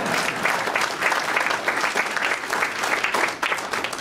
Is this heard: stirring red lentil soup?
no